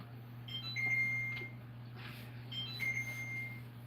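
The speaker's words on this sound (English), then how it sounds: "I hear the timer" Kitchen timer beeping during donut baking, two short bursts of high electronic beeps about two seconds apart over a low steady kitchen hum, fairly faint.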